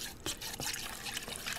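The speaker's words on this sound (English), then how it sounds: "Now I'm supposed to pour in" Cold milk poured into a pot for a bacon and corn macaroni sauce, a soft liquid splashing and trickling with a few brief drip-like bursts, quiet and close, with no talk.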